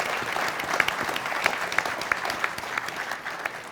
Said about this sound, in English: another round of applause for Soul Squadron